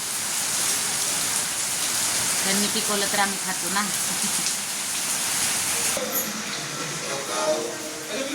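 Steady rain hiss fills the scene throughout, with people talking over it at a moderate distance.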